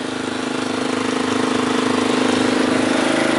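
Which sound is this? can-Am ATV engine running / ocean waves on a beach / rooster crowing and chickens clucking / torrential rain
can-Am ATV engine running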